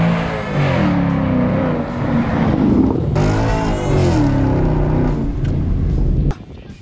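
A Camaro V8 roars loudly and close in a street race, its engine revving and accelerating in a sustained rising growl before cutting off abruptly near the end.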